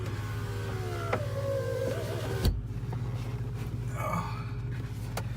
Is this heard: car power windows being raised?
yes